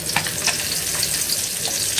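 Fish frying in a pan, a dense continuous sizzle and crackle with small spitting pops, close and steady throughout, no voices.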